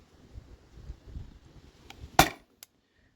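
A Crosman CO2 cartridge air pistol fires one sharp, loud crack in an otherwise quiet space, followed by a faint click.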